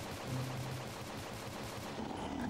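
Rapid automatic fire from an AUG rifle in a modded zombie-apocalypse Minecraft game, a dense continuous rattle of shots at steady moderate loudness with no pauses and no speech.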